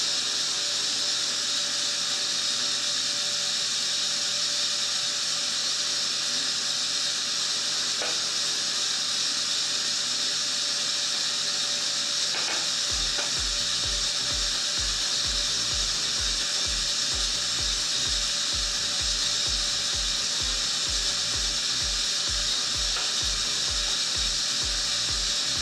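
Ingredients being whisked in a bowl for an almond flour cake, heard at first as a steady hiss, then a fast rhythmic clatter of beating that runs for the last half.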